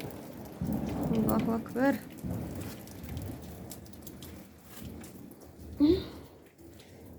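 Steady rain falls on a surface at night, a soft continuous patter heard from close by, while a voice calls out briefly over it and a faint rumble sits underneath.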